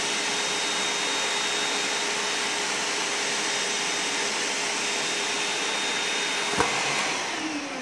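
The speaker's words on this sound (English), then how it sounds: "You just put it inside there and you turn your vacuum on." A vacuum cleaner running continuously to deflate a Mylar balloon through a straw, a loud steady whine and rush close by, with a brief click near the end as the pitch drops slightly.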